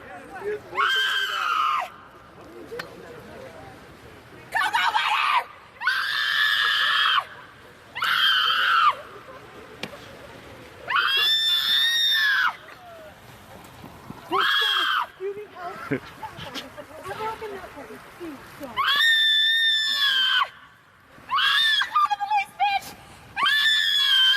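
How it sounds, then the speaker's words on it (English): A woman screeches repeatedly in loud, piercing bursts spaced across the stretch, with quieter noisy gaps and possible watery sounds between the screams. "I don't think it's appropriate to have her screeching though"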